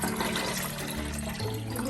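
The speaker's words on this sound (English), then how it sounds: "we just fill it up with fresh water" Fresh water filling a one-liter coffee machine tank, a short steady splashing rush of water, close and fairly loud, with a slight pitch change as it fills.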